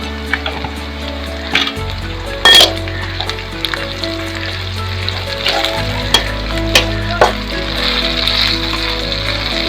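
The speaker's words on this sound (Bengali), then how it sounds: "এখন আমি দিয়ে দিচ্ছি কিছু গোটা জিরে।" Whole cumin seeds sizzle loudly in hot oil in a pan, a steady close frying hiss with occasional clinks and stirring scrapes, no talking.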